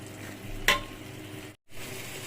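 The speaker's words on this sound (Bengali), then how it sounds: "এখন দিয়ে দিব এক চা চামচ পোস্তদানা বাটা কিছুক্ষণ কষিয়ে নিব" Beef sautéing with poppy seed paste for biryani meat, a low steady sizzle with a single sharp clink of a utensil against the pot and a brief cut to silence, no talk.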